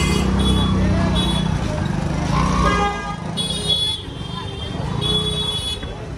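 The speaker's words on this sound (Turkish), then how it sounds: "inanılmaz derecede trafik sıkışmış" Jammed road traffic with idling cars and motorcycles, car horns honking repeatedly throughout, a loud and busy street soundscape with people talking over it.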